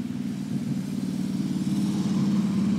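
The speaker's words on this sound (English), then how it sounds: "There goes another motorcycle." A motorcycle engine drones steadily and builds slightly in loudness as it passes by nearby, a continuous low hum with no voices over it.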